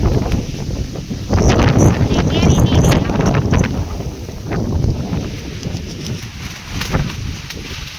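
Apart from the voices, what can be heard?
strong wind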